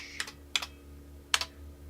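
IBM PC 5150 keyboard typing: three sharp, separate key presses, close and fairly quiet, over a low electrical hum, with no speech.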